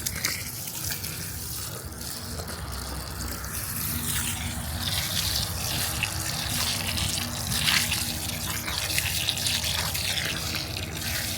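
Water gushes steadily into a backfilled planting hole around a plum tree, a continuous close pouring and splashing that runs for over ten seconds with no talk.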